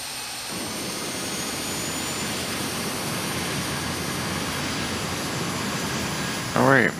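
Jet engine number 2 spooling up during start in a home cockpit flight simulator, a steady broadband roar with a high whine holding for several seconds, and a brief rising chirp near the end.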